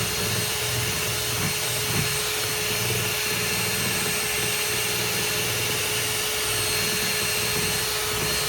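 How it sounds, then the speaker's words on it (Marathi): Electric blender whipping cream for homemade ice cream, a steady loud motor whir with a high whine, continuous and unbroken for several seconds with no voices. "अशा प्रकारे छान थिक होईपर्यंत ब्लेंड करायचं आहे"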